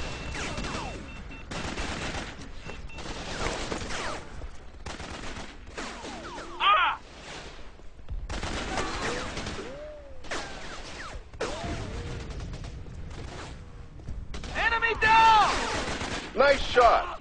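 Gunfire in the Raven Squad video game: repeated bursts and single shots at close range, with voices calling out over the shooting.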